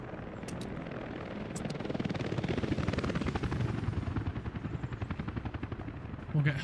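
Helicopter rotor chop from a squad of helicopters in the city-building game Workers & Resources: Soviet Republic, a steady rapid beating with engine whine, moderately loud and continuous, with faint game effects.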